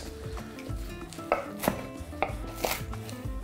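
Knife chopping arugula and salad mix on a board, a quick run of soft, evenly spaced cuts with a few sharper taps, close and quiet.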